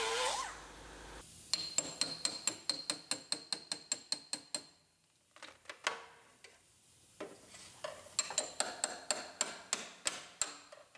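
Hand tools work on the inner wheelhouse panel of a 2013 Buick Enclave AWD, with fast rhythmic metallic clicking and tapping bursts, a pause, then another quick series, close and fairly quiet with no talk.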